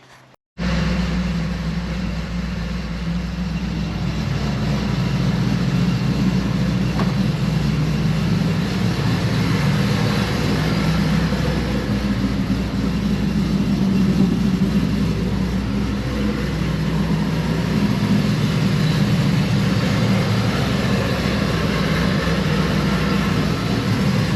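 A Ford Lightning pickup truck with a swapped-in Shelby GT500 engine idles steadily on a cold start while warming up, a loud, continuous deep rumble with a low throbbing exhaust note that holds unbroken from start to finish, no talking.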